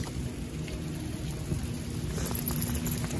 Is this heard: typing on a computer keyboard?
no